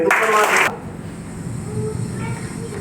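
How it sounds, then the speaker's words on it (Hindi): A seminar audience breaks into a short, loud burst of clapping that lasts about half a second and then cuts off, leaving a quiet room with low murmuring. "एक बार ताली बजा दीजिए।"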